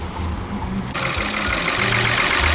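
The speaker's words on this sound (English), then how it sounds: "so this is the sound of the whole engine" A Peugeot 607 V6 with an ES9J4S engine runs at idle, a steady mid-pitched engine drone that steps up louder about a second in and then holds an even, continuous hum.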